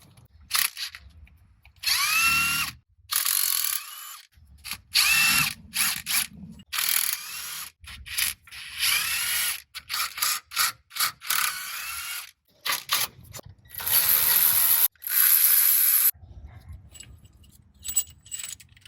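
A ratchet loosens cylinder head bolts on a 2007 Chevrolet Suburban engine, with repeated bursts of fast clicking separated by short pauses, up close and loud, and no talking over it.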